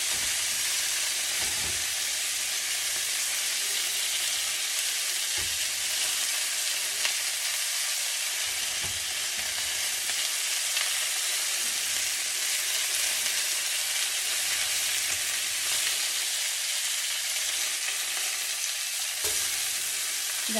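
Cabbage fries and chars in a hot pan with a loud, continuous, close sizzle that holds steady throughout, occasionally marked by soft shifts or pops.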